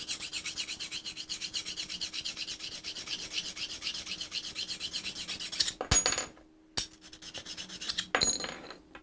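A hand tool blade is rubbed back and forth on a fine sharpening stone, close and quiet, in steady rhythmic strokes for several seconds before a few separate handling scrapes and pauses.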